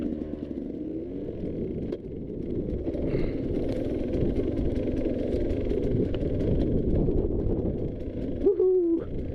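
A KTM 150 XC-W dirt bike being ridden off-road, its engine a steady, close droning roar mixed with rushing wind, with a brief rising whine near the end.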